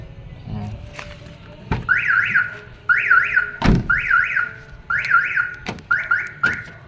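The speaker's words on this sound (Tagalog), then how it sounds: "yan, mag-aalarm yan." A Nissan NV350 van's alarm sounds in repeated loud, nearby warbling chirp bursts, broken by sharp thuds of the doors being handled.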